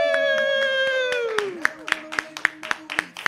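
At the close of a live comedy podcast, a gliding whoop of cheering is followed by a run of about eight sharp, evenly spaced claps for the guest Jomo.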